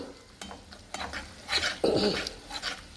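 A thickening mixture frying in plenty of ghee for white sauce chicken, with a low sizzle under repeated spatula scrapes and clinks against the pan, close and with no talking.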